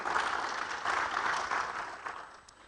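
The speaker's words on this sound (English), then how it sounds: "Shall we do a big round of applause?" An audience at an education event gives a short round of applause that fades toward the end, heard at moderate volume in a large hall.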